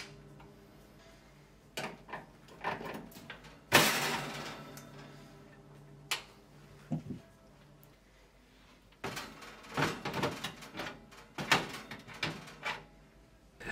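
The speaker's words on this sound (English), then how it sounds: "start to close the door whilst lifting up and the door hinges will release from the oven" A Hotpoint oven door being lifted off its hinges, with scattered clunks, metallic clicks and rattles across several seconds, one sharp knock standing out, close by and without talk.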